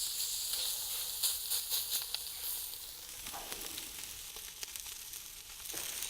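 A piece of beef sizzles steadily in a hot pan, a loud continuous crackling fry with brief louder spits and a flip partway through, no voices.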